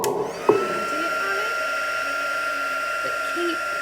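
A heat tool dries a layer of Christmas craft work, giving a steady continuous blowing whir that starts with a click and holds level for several seconds, fairly close, with faint talk over it.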